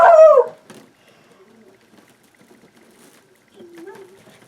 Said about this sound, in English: She sounds like a hound dog. She's my dash hound.